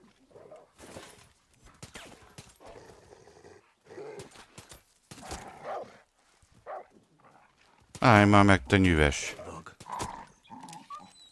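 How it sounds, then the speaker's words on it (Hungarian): A dog in the video game Far Cry 6 barks and whimpers, with a loud burst of close barking late on, while someone talks over the game sounds for most of the time. "Ajaj, kutya!"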